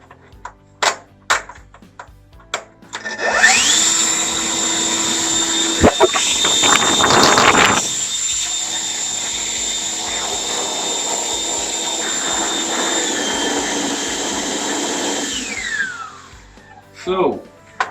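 A cordless battery-powered leaf blower running indoors as a steady loud whine for about twelve seconds, with a burst of rougher airflow early on and a fading wind-down, and brief speech and handling noises around it.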